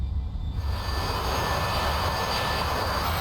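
An A-4E Skyhawk jet on the runway at takeoff, its engine a loud steady roar with a constant high whine running throughout, close and unbroken, with no voices.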